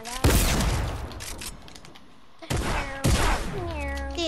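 Gunfire in Fortnite: a loud close burst of shots, then a quieter stretch, then two more sharp blasts, with a voice speaking between them.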